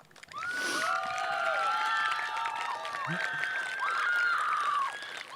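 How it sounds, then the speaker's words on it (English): Graduation crowd at an outdoor high school commencement ceremony cheering loudly, with whoops, shouts and high-pitched screams from different sections sustained throughout, applause mixed underneath. "I love hearing different sections of the crowd go off."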